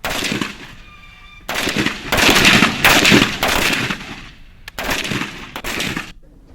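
Army gunfire at the Mahajan Field Firing Range during a joint military exercise, heard as sustained bursts of loud automatic fire in repeated volleys, with brief pauses between them.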